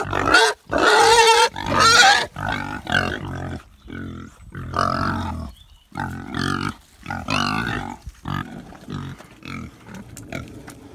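Pedigree Welsh pigs on a Pembrokeshire farm grunt and squeal in loud, uneven bursts close by, with a lively run of calls at the start and then scattered grunts.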